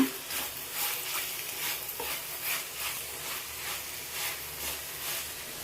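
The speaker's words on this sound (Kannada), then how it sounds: "ಈಗ ಚೆನ್ನಾಗಿ ಫ್ರೈ ಮಾಡ್ಕೊಳ್ಳೋಣ." Brinjal sukka, Mangalore style, fried and stirred in a pan with spice powders, coriander powder and salt: a steady close sizzle with regular scraping strokes of the spoon, and no voices.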